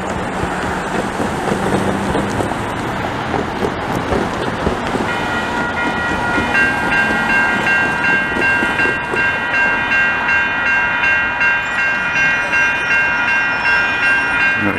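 A long CP freight train rolls through the Beaurepaire level crossing in Montreal, a loud continuous roar of wheels and cars, with crossing bells ringing steadily through the second half.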